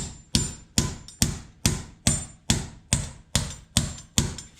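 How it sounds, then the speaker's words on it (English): Steady hammer strikes drive a shop anchor down into a concrete floor through a socket, about ten sharp metallic blows at an even pace, close and loud with ringing decay. "hammer it down with the socket"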